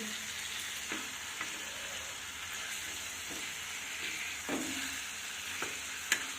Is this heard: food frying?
yes